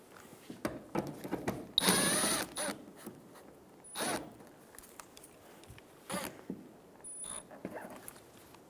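A power tool works on the 10mm rear bumper bracket bolts of a 2007-2011 Toyota Camry, giving short intermittent whirring bursts with one longer, louder run early on, amid clicks and handling noises.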